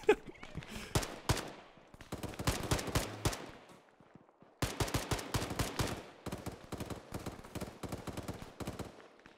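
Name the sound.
rifle gunfire in the video game Arma 3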